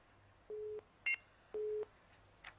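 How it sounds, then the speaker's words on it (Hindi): Telephone busy signal on a dropped phone line: two flat, evenly spaced beeps separated by a short higher blip, repeating at moderate level with no voices. "चलिए लगता है फोन डिस्कनेक्ट हो गया।"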